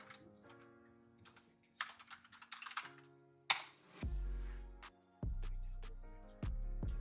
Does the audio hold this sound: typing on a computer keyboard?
yes